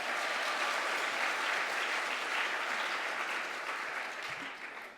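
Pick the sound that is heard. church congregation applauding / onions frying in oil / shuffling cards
church congregation applauding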